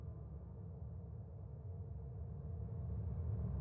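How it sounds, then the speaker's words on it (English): Steady, low rushing wind blows continuously, a soft broadband whoosh that swells slightly toward the end with no other sounds. "So this is just a simple wind sound effect"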